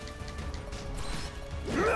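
A wrecking ball smash attack lands in Final Fantasy VII, with a continuous mechanical rumble building to a heavy crashing impact and a rising whine at the end, over game music.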